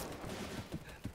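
Gunfire in the shooter game BattleBit Remastered: a quick burst of several gun reports, the loudest near the end, with a faint voice mixed into the busy battle noise.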